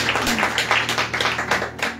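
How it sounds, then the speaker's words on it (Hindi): Audience at a church gathering clapping together, a dense run of hand claps heard close and lively for about two seconds, with no talk. "और जोरदार तालियों के साथ"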